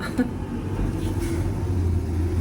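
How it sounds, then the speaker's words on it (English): A loud truck passes outside, a steady low rumble of engine and road noise that holds for the whole stretch, with a voice faintly present. "Here comes the truck again, just for another minute."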